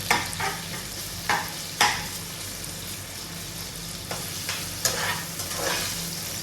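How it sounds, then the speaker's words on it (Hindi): Onions frying in a pan, a constant hiss of hot oil broken by several sharp spatula scrapes and clacks at an uneven pace, close up. "सबसे पहले तो प्याज छूट के तड़पा लेना है, इसको लाइट ब्राउन करना है"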